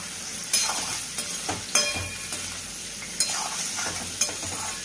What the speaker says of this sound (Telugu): ఉల్లిపాయ వేసుకుని కొంచెం ఫ్రై అవనిద్దాం.